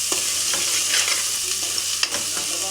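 Chole masala frying in oil while being stirred, a continuous close sizzle with repeated scraping strokes of a spoon against the pan and a couple of sharper clinks, no talk.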